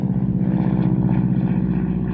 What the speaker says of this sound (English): Sorry about the plane above